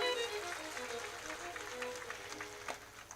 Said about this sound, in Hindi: एक बार मंत्री जी के लिए जोरदार तालियां।